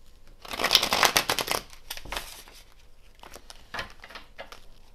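Tarot cards being shuffled up close: a burst of rapid riffling patter that fades, then a few softer shuffles follow. No one speaks.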